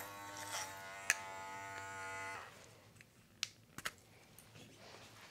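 An electric dog clipper buzzes steadily for about two seconds while trimming a Goldendoodle's thick coat, close and fairly quiet, then cuts out, followed by a few faint clicks and handling sounds.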